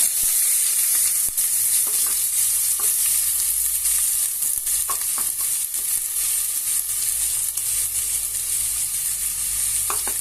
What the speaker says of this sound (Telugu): ఇప్పుడు మనం ఉల్లిపాయలు పచ్చిమిరపకాయలు వేసుకోవాలి.